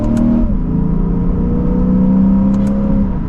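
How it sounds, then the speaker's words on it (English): A 2024 Lexus IS500 F Sport or 2024 BMW M340i sport sedan engine pulls steadily under acceleration from inside the cabin, a continuous mid-pitched drone rising in tone with a quick shift partway through. "acceleration, we'll get up to speed."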